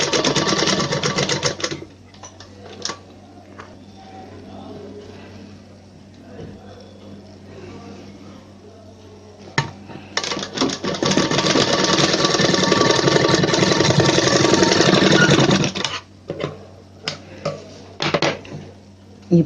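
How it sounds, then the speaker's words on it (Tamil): A sewing machine runs in two bursts while stitching a folded sleeve seam for a hem, with a short run early on and a longer, steady whir in the middle, quiet handling between them. "இதை ஒரு தையல் போட்டுக்கோங்க"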